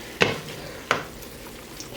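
A spoon stirs and turns partially cooked chicken in a pot, two distinct scraping strokes over a soft continuous sizzle, close and with no talking.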